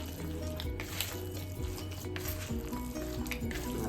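Hands squish and mix a wet bread pudding mixture of soaked bread and eggs in a bowl, with soft, continuous, close-up squelching and slapping and no talk.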